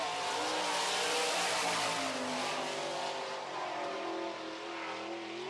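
A sprint car on a 2010 Triple X chassis with a 410 cubic inch Gertie engine runs at speed around River City Speedway, a loud sustained engine roar with shifting pitch as it circles the track, no talking.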